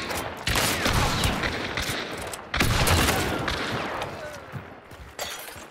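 Gunfire in a shooter video game, with repeated heavy blasts and bursts in quick succession, loud and dense, each followed by a rumbling decay, and faint voices underneath.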